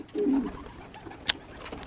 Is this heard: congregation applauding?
no